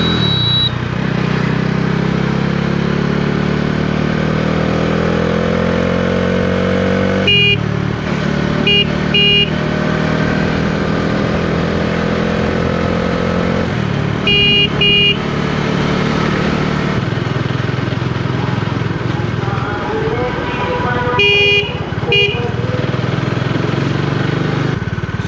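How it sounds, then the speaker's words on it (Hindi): A Bajaj Dominar 400 motorcycle being ridden, its engine rising through the gears with steady drone and pitch climbs, interrupted by brief breaks, heard up close with wind noise. "so it is my first time I am riding Dominar 400"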